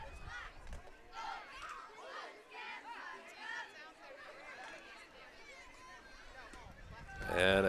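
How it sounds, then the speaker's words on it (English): Spectators at a wiffle ball game cheer and chatter, with a lively crowd murmur and scattered shouts building to a louder burst at the end. "The crowd is really getting into this one."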